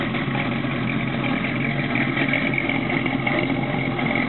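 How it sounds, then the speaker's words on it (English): A 1968 Mustang Fastback's 427 V8 idling through its dual exhaust, with a steady, throaty rumble and uneven low burbling that stays constant throughout. "Dual exhaust, listen to that."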